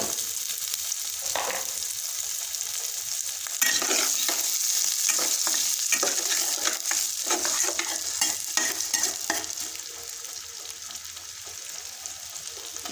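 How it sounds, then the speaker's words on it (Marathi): Chopped onion dropped into a pan with garlic and cumin, sizzling and frying steadily with clattering stirs from a spoon, loud and close, no talking. "आता आपण जे कांदा चिरून घेतला तर ते कांदा टाकून घेऊ"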